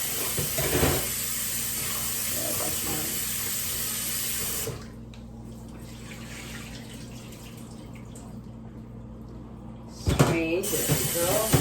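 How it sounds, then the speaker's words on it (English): Running tap water splashes steadily into a sink while white rice is rinsed by hand, a continuous close rush broken by a short quieter stretch before the flow surges again. "here is my cup of rice, white rice. I'll wash."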